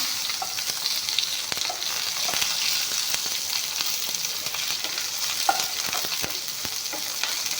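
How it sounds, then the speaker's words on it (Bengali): Bay leaves and onions fry in a pan with a steady, close, even sizzle, and occasional stirring taps sound through it, with no talk. "তেজপাতখিনি একেলগে দি দিছোঁ পিঁয়াজখিনিও দি দিছোঁ একেলগে এইখিনি অলপমান ভাজি ল'ম"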